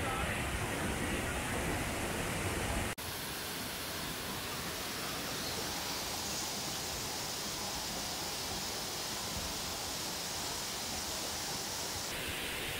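Waterfall at Semuc Champey, Guatemala, heard from a narrow path close to the falls: a steady, dense rushing roar that is loudest and harshest in the first three seconds, then settles into a constant broad wash with no voices.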